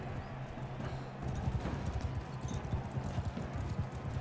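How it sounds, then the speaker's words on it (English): Horse hooves clip-clop steadily in the video game Mount & Blade II Bannerlord, a continuous galloping patter close by, with no talk over it. "Now let me get off this horse."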